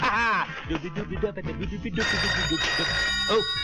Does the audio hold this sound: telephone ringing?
yes